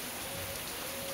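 Heavy monsoon rain pours in the Konkan region as a dense, steady roar of hissing water, loud and unbroken throughout the brief moment.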